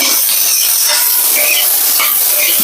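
Curry leaves sizzling and crackling in hot oil in a home kitchen pan while being stirred, a steady loud frying hiss throughout with no talk.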